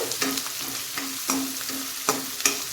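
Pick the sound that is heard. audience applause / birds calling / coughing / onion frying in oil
onion frying in oil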